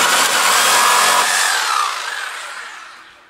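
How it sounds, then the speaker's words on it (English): A power saw cuts through the old stock exhaust pipe of a V10 BMW M5, a loud, close, harsh whine that holds steady and then tails off as the cut finishes. "They're cutting off my old exhaust there."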